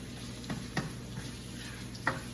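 Ginger frying in oil with a soft continuous sizzle, broken by a few brief stirring clicks and scrapes, fairly quiet and close, with no voices.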